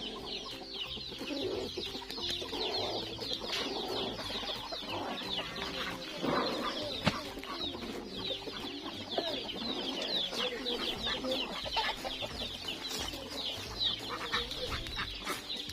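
A flock of ducks feeding on snails makes constant busy clucking and quacking with rustling and pecking noises. The sound is dense and moderately distant, with no talking.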